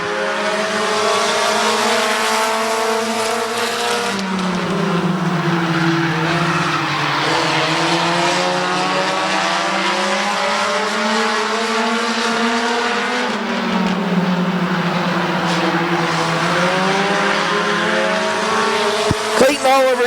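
Compact race cars run side by side on an oval speedway, their engines droning loud and close with rising and falling pitch as they pass and circle, over a continuous roar.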